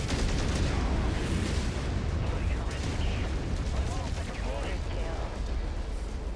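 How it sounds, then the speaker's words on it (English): Missiles fire in MechWarrior 5: Mercenaries amid a continuous loud rumble of launches and explosions, with a voice talking over the din. "Ooh, I love missiles."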